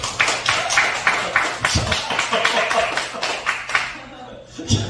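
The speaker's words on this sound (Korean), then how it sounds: "박수 치잖아 봐요." A church congregation at a youth worship service claps in quick, uneven bursts, fairly close and loud, tapering off near the end, with a preacher's voice speaking over it.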